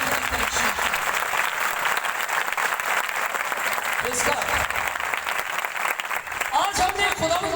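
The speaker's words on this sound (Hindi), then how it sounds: "जोरदार तालियों के साथ खुदा की" A congregation at a church gathering breaks into loud, sustained applause. Dense clapping runs throughout, with a voice speaking over it and brief tonal sounds near the end.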